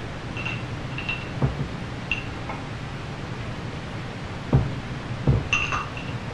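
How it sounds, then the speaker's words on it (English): A spoon clinks against a glass while stirring a mixture of baking soda, water and dishwashing liquid, giving a few sparse, light taps spread over quiet background hiss. "Use your spoon to thoroughly mix the liquid."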